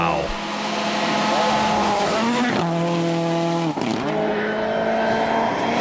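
A WRC rally car at Rally Finland 2000 screams over a crest at full throttle, its engine note holding loud and steady, then dipping and climbing again through quick gear changes, close and alone.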